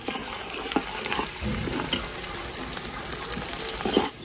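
Ginger-garlic paste and spices fry in a pan with a continuous, fairly loud sizzle close by, with occasional stirring knocks and a brief scrape near the end, and no talk.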